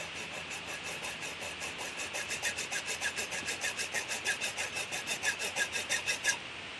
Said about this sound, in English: So let's cut this tubing.